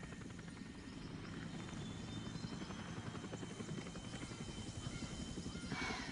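A helicopter's steady rotor thump and engine drone hold at a moderate distance, a constant chopping rhythm with no talk.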